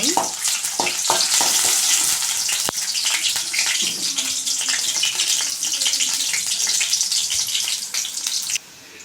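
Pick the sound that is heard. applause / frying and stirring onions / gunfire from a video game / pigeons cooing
frying and stirring onions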